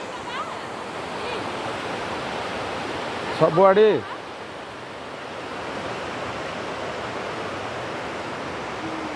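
The Mahanadi river flowing, a steady broad rushing of water close by, with a short voice breaking in for a moment partway through.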